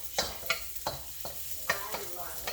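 Onions sizzle and hiss in hot oil in a pan for kimchi fried rice, with a quick run of stirring scrapes and clacks over a steady frying crackle and no talk.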